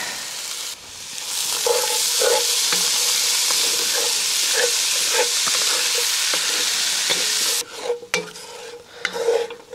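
Onions, carrots, celery and garlic hit a hot pot for braised beef short ribs with a loud, steady sizzle, stirred by utensil scrapes and clacks. The frying hiss cuts off near the end, leaving scattered scraping taps.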